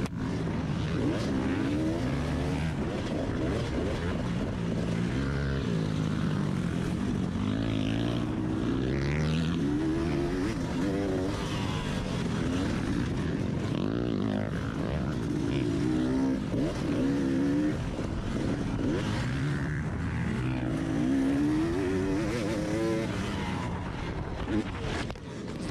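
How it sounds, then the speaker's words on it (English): A 300cc two-stroke dirt bike set up for woods racing runs on a motocross track. Its engine drones loudly and without a break, rising and falling as the throttle opens and eases, close to the microphone. "I decided that I would just grab the old 300 two-stroke out of the trailer that's set up for woods racing and give that a rip"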